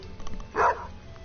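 A single short dog bark in Stardew Valley, a brief mid-pitched yap on a quiet background with faint game ambience.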